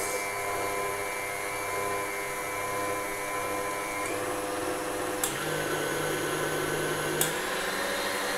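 An electric mixer whirs steadily at medium speed, beating Sablée Breton batter in a bowl. The motor whine is continuous and close, with a couple of faint clicks and no talking.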